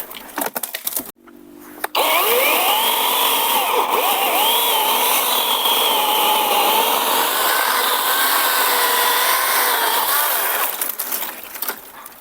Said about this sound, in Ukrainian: Так, пила справляється на ура. І знизу, і зверху.